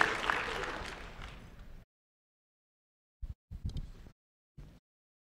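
A brief burst of audience applause for newly elected board members of an aquatic sports organization, dense at first and tapering off before cutting to silence, followed by a few short, isolated sounds.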